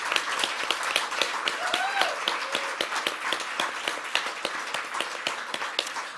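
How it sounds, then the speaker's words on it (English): Audience applause for an author at a literary prize shortlist announcement, many hands clapping steadily with sharp individual claps standing out near the mic, with a brief whistle or voice in the middle. "Could we have a round of applause for the author, Scintilla Chingape?"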